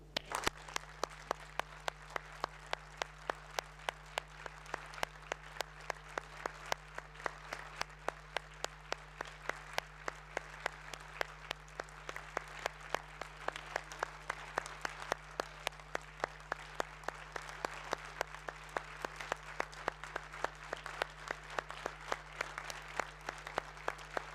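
Applause from members in the European Parliament chamber, a steady dense clapping that runs unbroken for the full stretch at a moderate, somewhat distant level with no voices on top.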